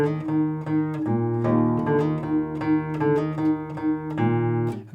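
Fingerstyle acoustic guitar playing only the thumb bass notes of a song, a steady run of plucked low notes, one on every quaver, each with a crisp attack, moderately loud and up close.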